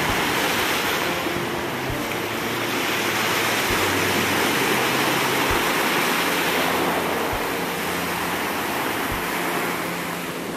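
Ocean surf rolls steadily onto the beach at Destin, Florida on a cold winter day, a loud continuous wash of breaking waves with no talking.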